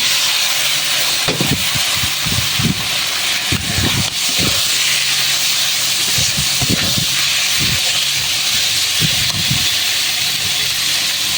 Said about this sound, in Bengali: চর্বিটা একটু কষিয়ে নেব।